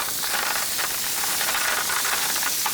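Clams sizzle in a hot pan with pancetta and olive oil, a loud, continuous hiss with faint pulses as the pan is tossed, with no voices.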